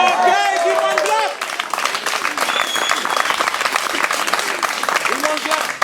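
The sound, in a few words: audience clapping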